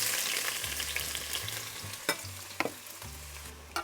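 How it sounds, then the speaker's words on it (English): Onions for a vegetarian chili fry with a steady crackling sizzle in a pan, broken by a few sharp scrapes and knocks as they are stirred, close and fairly quiet, with no talk. "Okay, I'm going to give those a little stir."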